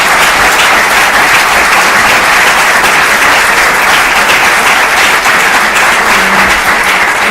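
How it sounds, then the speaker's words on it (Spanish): A large audience in a lecture hall applauds, a dense, loud, sustained wash of clapping from many hands that holds steady for several seconds. "un aplauso para nuestro"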